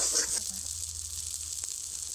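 Potato filling for tomato chops sizzles steadily while being stirred over low heat in a kadai, a continuous close frying hiss with no talking.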